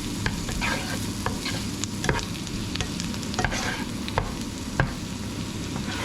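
Garlic frying in a pan while being stirred, a steady sizzle with scattered scraping clicks of the utensil, close and alone without speech.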